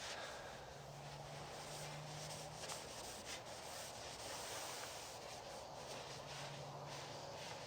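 Soft, steady rubbing of a cloth wiping excess Tru Oil off the surface of a wooden self bow, faint and continuous with no speech.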